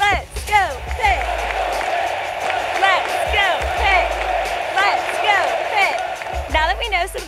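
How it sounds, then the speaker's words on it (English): A stadium crowd chants the rhythmic Let's Go Pitt cheer at a University of Pittsburgh student welcome event, with loud repeated shouted phrases, drum hits and cheering layered together. "Another simple cheer is our Let's Go Pitt cheer."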